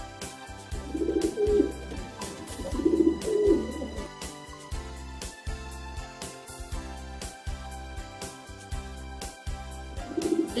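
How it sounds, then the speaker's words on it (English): Pigeon cooing in repeated soft throaty phrases, set against loud rhythmic music that dominates the mix. "Pigeon."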